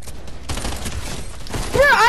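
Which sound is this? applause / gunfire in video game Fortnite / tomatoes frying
gunfire in video game Fortnite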